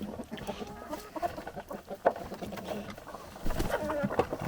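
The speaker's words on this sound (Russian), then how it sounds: "Куры вон колбасу жрут так, что не успеешь за ними." Domestic chickens feed on sausage in a farmyard, with busy pecking taps and scattered clucks close by, building into a denser flurry of activity near the end.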